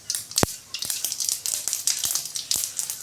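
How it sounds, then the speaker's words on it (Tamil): Cumin seeds added to hot oil with mustard seeds, a soft close sizzle with a busy stream of tiny pops and crackles, punctuated by a few sharp clicks like a spoon tapping the pan. "கொஞ்சம் சீரகம் போட்டுக்கோங்க."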